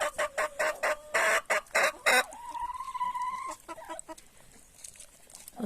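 Rooster with chickens on a farm: a run of sharp, rhythmic clucks gives way to a drawn-out crow, then quieter clucking, close by and without talk.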